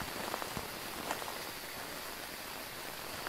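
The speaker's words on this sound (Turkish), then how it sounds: "İlk defa yağmurlu havada oynuyorum burada." Rain falling in the ghost-hunting video game Phasmophobia, outdoors near tents: a steady, faint hiss of rainfall with scattered soft droplet patters, no voices.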